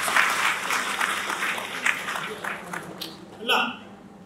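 Audience clapping at a general assembly meeting of a Buddhist association in Nepal, a steady spread of hand claps that fades around the three-second mark, then a brief final burst.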